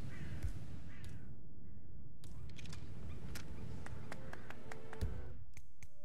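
Crows cawing in the Hitman 3 video game, several harsh calls in sequence against a quiet ambient game background with a few soft taps.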